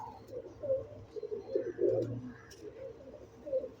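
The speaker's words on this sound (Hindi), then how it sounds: "ये तार वाले कबूतर हैं ये भी।" Several wire-breed pigeons coo nearby in soft, throaty bursts, overlapping irregularly with brief pauses between calls.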